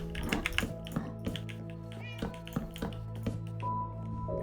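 A cat meows repeatedly on a bed in a short series of close, clear calls, with light tapping sounds between them.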